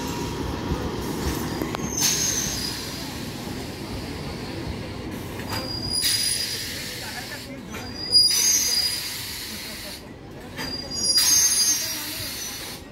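Sealdah-bound passenger train from Godda entering and leaving Hooghly Ghat railway station, with rumbling wheels and repeated high metallic squeals of wheels on rails, rising and falling over thirteen seconds, with voices in the background.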